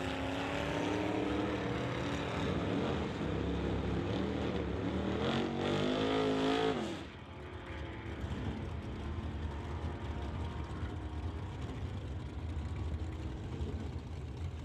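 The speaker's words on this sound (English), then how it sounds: "the next pair out of Savannah, the 56 Chevy for Norm Fleenor, and far side of the racetrack from Surrey in the Anthony Brothers 38 Special, Ron Anthony behind the wheel" A 1956 Chevy and a 1938 Chevy launch side by side at an old-time drag strip, engines roaring loud and rising through gears for several seconds before the noise drops to a distant, fading drone.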